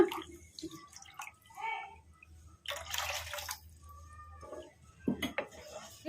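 Water pours from a mixie jar into a curry mixture in a home kitchen, with a few soft drips and splashes followed by a brief, louder gush of liquid, then scattered trickles.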